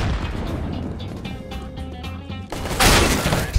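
Gunfire in the shooter Counter-Strike, with muffled shots and booms over a humming in-game backdrop, then a louder, sharper burst near the end.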